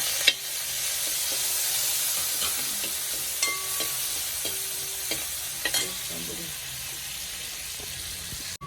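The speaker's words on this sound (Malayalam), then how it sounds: "കൊച്ചുള്ളി അരിഞ്ഞു വെച്ചിട്ടുണ്ടായിരുന്നു അത് ഇട്ട് കൊടുക്കാം അത് ഇതുപോലെ നന്നായിട്ട് വറുത്ത് മാറ്റാം" Sliced shallots fry in a pan, a steady close sizzle running throughout with occasional soft clicks and scrapes of a spoon stirring them; no talk.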